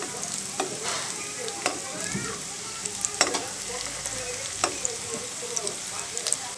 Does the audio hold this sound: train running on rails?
no